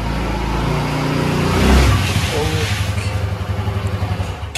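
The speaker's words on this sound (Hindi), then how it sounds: "तो भाई फाइनली स्कूटी आ गई है घर पे।" A TVS Jupiter 125cc scooter arrives on the road, its engine swelling nearer and then settling into a low puttering idle, with someone talking over it.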